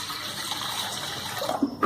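Water gushes and splashes into a cooking pot to boil gongura leaves, a short steady pour with a brief rising fill toward the end, close and alone.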